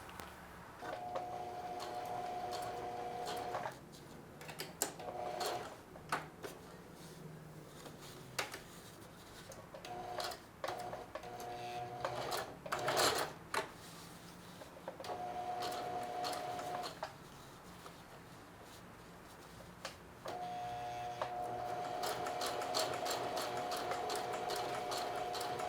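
A sewing machine stitches a blue jeans back pocket in several separate bursts, each a rapid ticking run with a steady hum, split by short pauses and handling clicks, fairly quiet and close.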